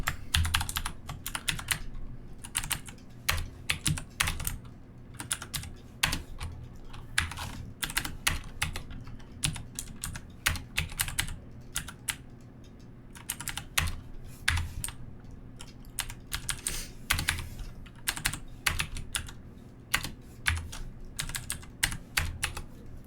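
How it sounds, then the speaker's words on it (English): Steady, fast typing on a computer keyboard while entering Python code, with dense clicky keystrokes running continuously and close up for the whole stretch, no talking. "let me type this in quick"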